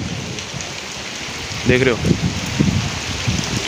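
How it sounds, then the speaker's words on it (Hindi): Heavy rain pours down steadily during a storm in Rohtak, a dense constant hiss of drops hitting surfaces. Someone speaks briefly over the downpour. "तो देखो भाई फिर से कितनी तेज बारिश स्टार्ट होगी"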